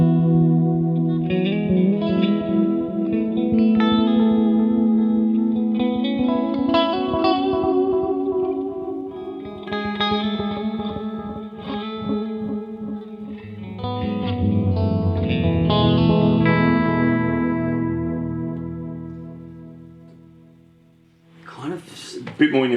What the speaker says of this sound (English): The repeats are a bit louder, but a bit kind of grittier and darker.